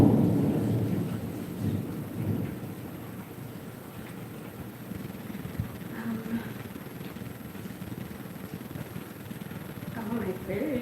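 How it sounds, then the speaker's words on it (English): Rolling thunder rumbles low and heavy through a thunderstorm, with a steady hiss of rain underneath as the deep grumble fades and swells throughout. "let you listen to the rain come and the thunder"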